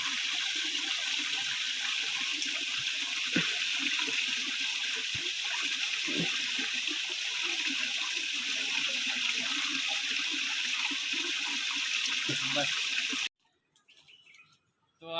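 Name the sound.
very cold water flowing in a forest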